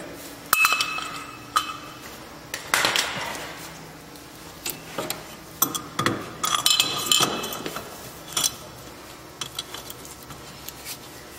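A socket wrench with a 1/2 inch drive breaking a tight tie rod loose on a car, heard as scattered metallic clanks, ratchet clicks and knocks, close and fairly loud, without speech.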